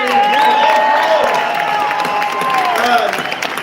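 At a Greektown Casino meet and greet, a crowd applauds and cheers loudly and steadily, with voices calling out above the continuous roar.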